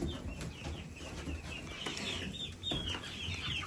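A flock of farm chickens clucks steadily and close by, overlapping calls running continuously with brief louder squawks rising above the chatter.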